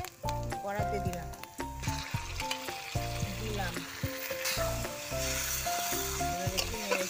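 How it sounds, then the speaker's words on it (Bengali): Boiled taro greens fry in a wok with a continuous crackling sizzle, partly buried under loud background music. "সিদ্ধ করা কচু শাকগুলো আমি এবারে কড়াতে দিলাম।"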